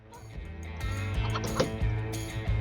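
A rooster being caught by hand in a chicken coop, giving agitated clucks and squawks amid scuffling and flapping, close and fairly loud.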